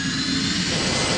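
Spacecraft thrusters in the game Pegasus Prime fire in a brief, steady roaring rush of broadband jet-like noise, loud and continuous with no voice over it.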